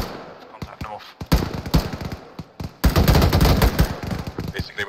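Gunfire rattles in the military shooter ARMA 3, with scattered single shots and then loud sustained bursts of automatic fire, nearby and sharp, with faint voices talking in between.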